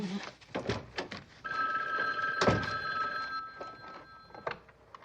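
A telephone rings in a classic crime drama, two spaced bell bursts sounding fairly clear over quiet room noise.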